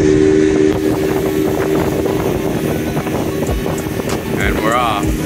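A motorboat engine drones steadily close by on the river in Cañón del Sumidero, Mexico, with wind buffeting the microphone and people talking over it.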